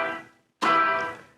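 Two strummed guitar chords, each left ringing out without palm muting, the first fading away before the second strikes loud and sustains into a slow decay.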